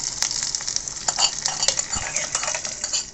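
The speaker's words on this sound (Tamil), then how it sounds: "அந்த பருப்பை சிம்மாக இருக்க அடுப்பில் வச்சுட்டு இந்த தாளிச்சதை அதில் ஆட் பண்ண போகிறோம்." Hot tempering for dal sizzles and crackles steadily in a pan, with bright metallic stirring clinks and spoon taps over a continuous frying hiss, close and fairly loud with no talk.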